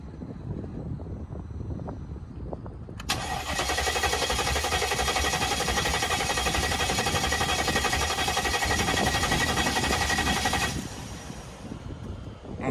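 A 2002 Mercedes S500 engine cranking without starting: a steady, loud starter churn of about eight seconds that begins abruptly and cuts off without the engine catching, with quieter background before and after.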